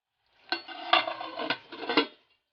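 A lid is set onto a pot of chicken left to simmer for Mughlai chicken chaap in a home kitchen, giving four sharp metallic clanks spaced about half a second apart, close and fairly quiet, with no talk.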